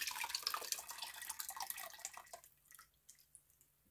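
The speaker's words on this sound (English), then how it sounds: "let's go ahead and add our lye solution into the oils." Lye solution is poured into soap-making oils for a cold process ylang ylang lavender bar, a close liquid trickle and splash that tapers off into quiet drips after a couple of seconds.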